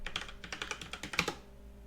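Password typed on a computer keyboard, about a dozen quick, close keystrokes in a brisk, slightly uneven rhythm, ending in silence.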